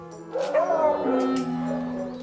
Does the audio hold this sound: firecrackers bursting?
no